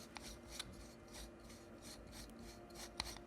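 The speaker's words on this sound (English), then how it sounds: "you want to unscrew the grip." A custom scrap-built lightsaber hilt has its grip unscrewed by hand, a quiet, close, rasping rub that repeats in short twisting strokes, with a couple of faint ticks.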